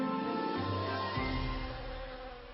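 A steady honey bee buzz hums throughout, with a lower drone shifting pitch partway through, like bees flying close by.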